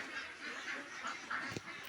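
Ducks in a crowded duck house holding about five hundred birds quack continuously, a dense overlapping chorus close to the listener, with a brief sharp knock near the end.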